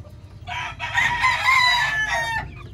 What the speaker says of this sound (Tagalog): At ito po yung mga manok natin.